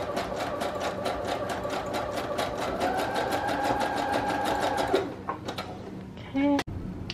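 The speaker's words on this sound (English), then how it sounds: "I am actually going to sew around the corners" A sewing machine stitches vellum and paper in a fast, even run of needle strokes that stops around five seconds in, followed by a few handling clicks and a short soft bird-like coo, close and clear.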